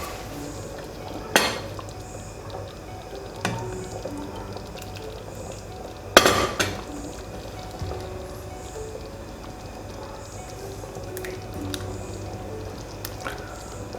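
Chicken hot and sour soup is ladled out into a dish, with a few sharp clinks and clatters of metal utensils against the pot and bowl standing out over soft, quiet background.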